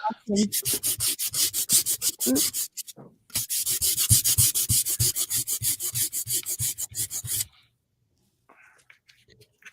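Cheap dollar-store sandpaper rubbing briskly in rapid back-and-forth strokes during an art session, loud and close, with a brief break and a quiet tail at the end.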